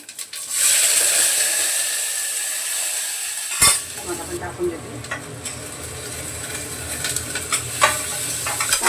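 Chopped onion hits hot oil with cumin while cooking a moong bean bhaji, bursting into a loud sizzle that settles into steady frying hiss with occasional stirring clinks.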